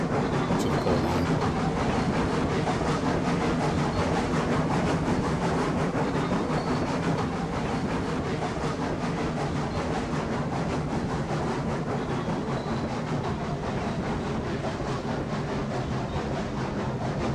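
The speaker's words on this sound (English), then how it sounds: "I love watching a long train snake through the track." Long freight train rolling along the track in the Railroads Online railway game, a steady dense rumble with faint rhythmic clatter of wagons, continuous and fairly loud throughout with no talk.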